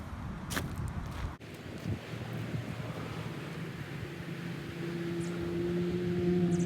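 Steady outdoor wind rumble and rush, with a gust-like buffet near the start and a low drone building toward the end.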